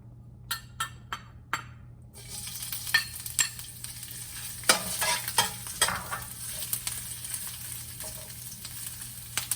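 Chopped ginger sizzles steadily in hot oil in a pan for a green kale shrimp dish with coconut milk, preceded by a few sharp utensil taps and followed by scattered clinks and scrapes of stirring.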